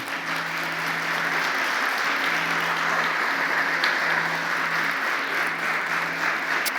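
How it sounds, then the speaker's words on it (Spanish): Church congregation applauding during a Christian sermon, steady mid-level clapping from many hands over a faint held organ or keyboard chord, no talk. "Le damos un aplauso a esta palabra"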